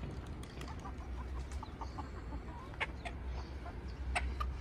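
Chickens cluck in short scattered calls, fairly close but modest in volume, over a low background rumble.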